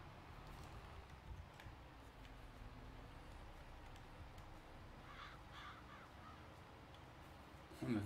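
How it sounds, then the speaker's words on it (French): Crows caw a few times in the distance over a steady farm ambience in the video game Farming Simulator 22, with faint low rumbling underneath. "On a toujours les corbeaux."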